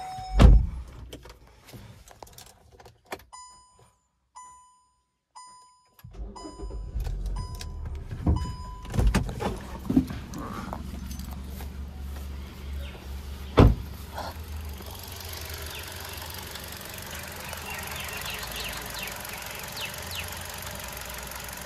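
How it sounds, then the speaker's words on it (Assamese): A dusty, uncleaned petrol car engine starts up: a few clicks and a chime of beeping tones, then a brief crank before the engine catches and settles into a smooth, even idle that carries on steadily. "পেট্ৰল ইঞ্জিন হয়, একদম নৰ্মেল সাউন্ড, ধুনীয়া হৈ আছে, একদম স্মুথ হৈ আছে।"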